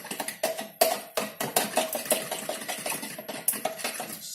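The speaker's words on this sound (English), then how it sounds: "Just fork, whisk that up a little bit." A metal fork whisks eggs in a bowl with rapid, sharp clinks, a quick uneven rhythm of close, bright taps that carries on throughout with no talking.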